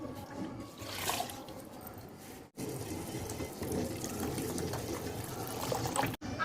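Water poured into a cooking pot to boil soaked rice for chicken biryani, a steady close splashing pour with two brief breaks.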